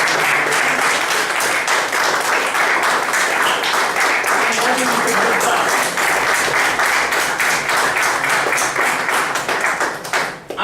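An audience at an evaluation session gives a long round of loud, close applause, sustained for about ten seconds before tapering off, with a voice faintly present underneath.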